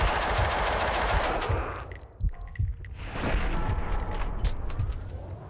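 Rapid automatic gunfire in the shooter Max Payne 2, loud bursts of rattling shots that break off briefly into a quieter gap, then resume with clanking mechanical noise.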